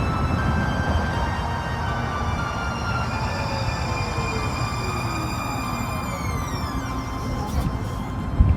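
A Red Line train in a large central transit station rumbles steadily with a tonal whine, sliding pitched squeals near the end as it moves, and a brief clatter at the close.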